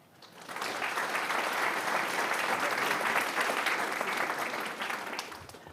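Retirees honored at a regular board meeting receive a sustained round of applause from the audience, swelling quickly and holding steady for several seconds before tapering off.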